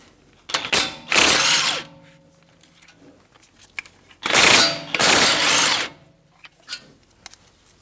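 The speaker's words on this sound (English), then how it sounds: "I'm going to use a 19mm swivel socket and get my caliper bracket bolts out" A ratchet with a 19mm swivel socket loosens caliper bracket bolts on a 2016-2022 Honda Pilot, giving two loud bursts of rapid clicking separated by quieter handling sounds and a few light metallic taps.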